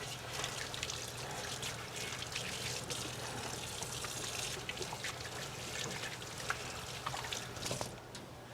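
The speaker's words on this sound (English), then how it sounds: "add the stock" Stock pours into a pan in a kitchen as a faint, continuous liquid trickle and splash, steady for several seconds with no talking.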